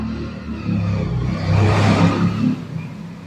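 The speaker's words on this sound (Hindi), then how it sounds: "यहाँ से बाइक बहुत जाती है" Motorbikes go past on a nearby road, each engine swelling into a whooshing rumble and then fading, over a low background hum with no talk.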